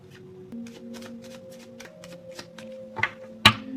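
Tarot cards are shuffled in quick riffling bursts over a faint background hum, ending with a couple of sharp slaps as the deck is squared.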